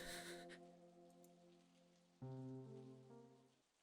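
Steady rain falls in an anime scene from Steins;Gate 0, a soft continuous patter under sustained musical tones that swell louder partway through.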